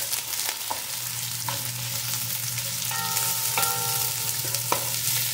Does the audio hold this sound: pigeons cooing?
no